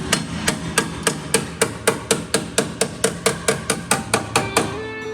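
A hammer tapping on the torsion tube of a 1968 Porsche 912, about fifteen evenly spaced sharp metallic knocks in a steady rhythm, close and clear with no talking.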